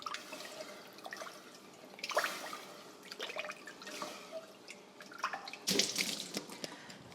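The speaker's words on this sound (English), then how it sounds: "we're gonna go ahead and wash and get our carrots ready." Carrots being washed under a running kitchen faucet, soft splashing and trickling water with a few louder gushes and drips, fairly quiet and close, without any talk.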